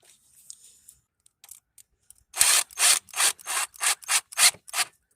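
A plastic engine air filter housing on a Ford Freestar is worked into place, making about eight loud, rasping scrapes in a quick, even rhythm after a few faint ticks, with no talking.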